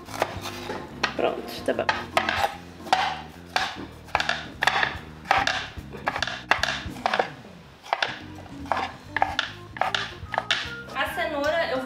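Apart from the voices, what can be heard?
chopping vegetables roughly with a knife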